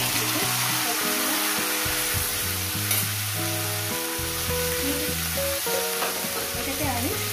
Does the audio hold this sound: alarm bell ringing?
no